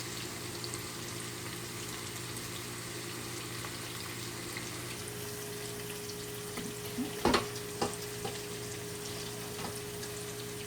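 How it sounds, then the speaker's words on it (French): Onions and bell peppers cook in a pan for a spinach and shrimp stew, giving a steady, soft sizzle with no pause. A few small pops and stirring clatters break through near the middle. "Pendant que mes oignons sont en train de cuire avec mes poivrons."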